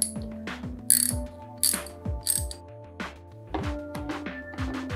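Ratchet handle of a 21-piece socket wrench set clicking through several bursts of sharp metallic pawl clicks, close and clear, with short pauses between strokes and no speech.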